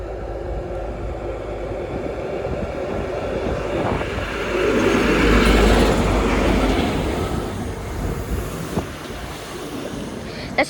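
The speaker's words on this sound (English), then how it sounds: "This is from Inverness to Edinburgh Waverley." A mainline passenger train running from Inverness to Edinburgh Waverley passes close by, its rumble swelling to a loud peak midway and then fading, with wind buffeting the microphone throughout.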